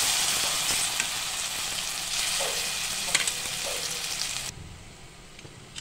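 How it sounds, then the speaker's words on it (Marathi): Masala sautéing in a pan for a Malvani-style bangda (mackerel) fish curry, with a loud, constant close sizzle and a few stirring scrapes. The sizzle drops off sharply near the end, as if the pan was moved or the heat lowered. "अशा पद्धतीने आपण आता हा मसाला चांगला परतून घेतोय"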